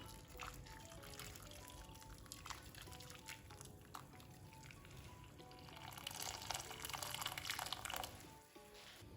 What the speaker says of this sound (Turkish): Şöyle üzerine iki parmak geçecek kadar sıcak su ekliyorum.